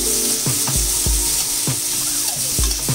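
Onion frying in a little oil in a nonstick pan gives a loud, continuous sizzle, broken by regular scraping knocks as a spatula stirs it close by.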